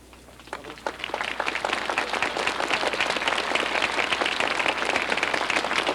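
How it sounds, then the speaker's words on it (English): A large crowd of about 20,000 at the 1989 North Carolina gubernatorial inauguration gives sustained applause for Governor James Martin, the clapping swelling quickly and continuing steadily and densely, with no voices above it. "Big hand now for Governor James Martin."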